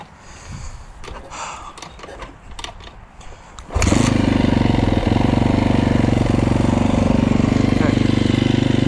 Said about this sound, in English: So that's how long it took to warm up or start that bike.